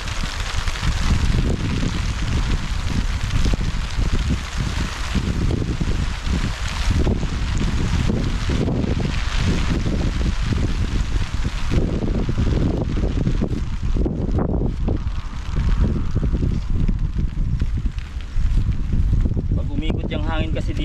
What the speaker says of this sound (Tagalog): Yung hangin kasi dito,